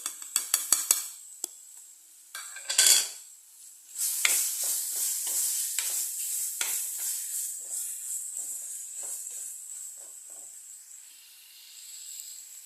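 Tomatoes sizzle and are stirred in a hot pan for a sardine fish curry: a few sharp clanks of the spoon, then a bright, steady frying hiss that slowly fades.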